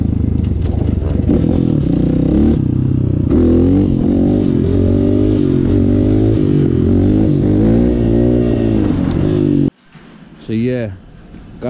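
Apollo Thunder 300cc motorcycle revving hard and shifting up through the gears, a loud close engine note that climbs, dips at each shift and climbs again, then cuts to quieter speech at the end.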